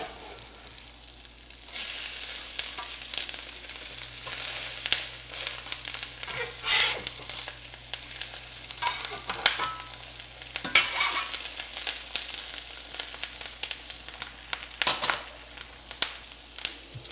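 Walleye and crab cakes fry in hot oil in a pan, giving a continuous close sizzle with occasional louder crackles and brief stirring or utensil movements.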